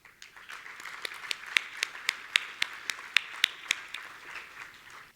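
Applause from an audience at a charity annual dinner, a soft continuous patter of hands with distinct sharper claps standing out regularly, heard at a distance in a large room.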